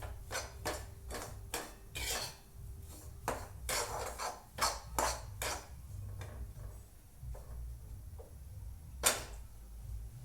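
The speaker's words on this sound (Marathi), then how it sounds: "मोठा मिक्स करून रवा मस्त भाजायचा, लालसर होऊ द्यायचा." A spoon scrapes and clinks against a pan as semolina (rava) is stirred and roasted for upma. The taps come in an irregular rhythm and are close and moderately loud, with a low background hum and no speech.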